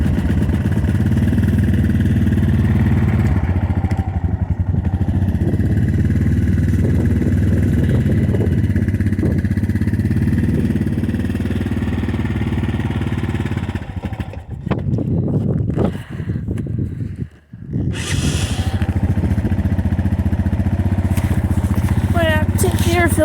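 Four-wheeler ATV engine cold-started with the choke on, running with a steady low mechanical rumble and uneven revving that dips and falters midway before picking up again, with a voice talking over it.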